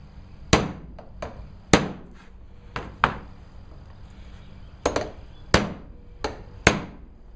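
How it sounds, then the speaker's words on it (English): Hammer blows drive a cold chisel into a heat pump battery casing, eight sharp metallic strikes falling in irregular pairs and singles, close and loud, with no voices. "let's see if we can cut through it with a cold chisel"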